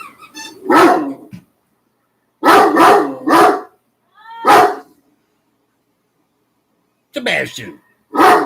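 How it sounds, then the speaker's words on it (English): A dog barks repeatedly in loud bursts, single barks and quick doubles and triples separated by silent pauses, close by. "Sebastian. Hey, what are you barking at?"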